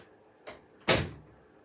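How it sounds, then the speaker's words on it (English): A door is pushed shut indoors: a soft bump, then a louder close a moment later whose thud rings out briefly, heard alone and close by. "Can you close the door, please?"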